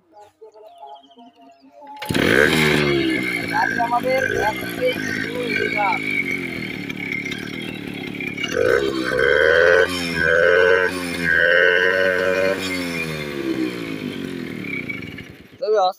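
A Suzuki Samurai motorcycle with modifications cranks and catches abruptly, then runs with a throaty idle and repeated revs rising and falling, close and loud; a voice speaks briefly.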